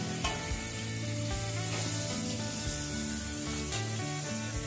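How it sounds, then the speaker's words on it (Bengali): Milk poured into sizzling, oil-releasing masala in a pan for Bengali macher kalia fish curry made with katla or rui, giving a loud, steady frying hiss and crackle with no one speaking. "এই সময় আমি দিয়ে দিচ্ছি দুধ।"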